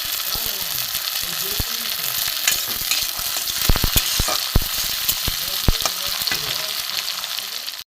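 Chopped tomato frying in a pan, with a dense, crackling sizzle throughout, punctuated by quick sharp clicks and taps of a spatula against the pan.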